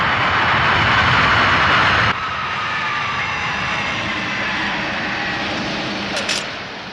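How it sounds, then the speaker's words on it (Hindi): Cartoon airplane engine roaring steadily during an emergency landing, loud and continuous, dropping to a lower, slightly quieter drone partway through and running on alone with no talk. "अब हम लैंड करने वाले हैं।"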